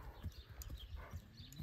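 Horse hooves thud softly at a walk on soft, worked ground, a steady run of muffled low clops alone with no talk, fairly close.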